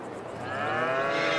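A cow in a Farming Simulator 22 cow shed lets out a single long, low moo that swells in loudness, close and clear over faint barn ambience, with no voices.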